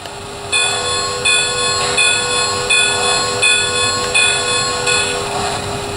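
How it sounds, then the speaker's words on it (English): Bell on a Lionel LionChief Plus 2-8-2 Mikado toy locomotive, Southern Railway #4501, rings in a steady repeating clang, about one strike every second, loud and close with a constant hum underneath and no voices. "Let's try the bell."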